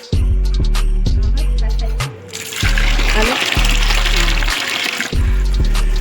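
Water runs from a tap in a home, with a steady rushing hiss that swells in the middle. A strong humming drone sits over it, and the water drops away briefly at intervals.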